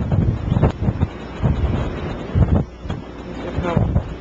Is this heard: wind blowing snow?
yes